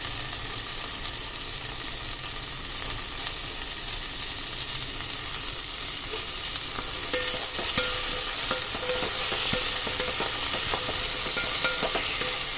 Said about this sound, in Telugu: బాగా ఫ్రై చేసుకున్న తర్వాత ఇప్పుడు దీంట్లో మనం కట్ చేసి పెట్టుకున్న టమాటా ముక్కలు ఉన్నాయి కదా, వాటిని కూడా వేసేసుకుందాం.